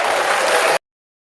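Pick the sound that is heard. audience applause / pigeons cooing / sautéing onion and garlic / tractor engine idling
audience applause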